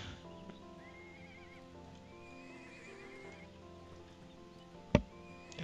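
A horse in the online game ArcheAge neighs and whinnies with soft hoof clip-clops over a calm ambient background, ending with a sharp click.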